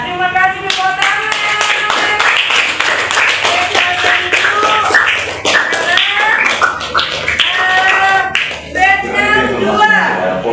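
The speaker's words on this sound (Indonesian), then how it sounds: "Ya, terima kasih tepuk tangan." A room of people clapping their hands in quick, dense, close-up claps that carry on steadily, with voices and chatter mixed in throughout.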